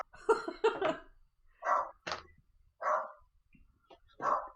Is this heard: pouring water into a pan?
no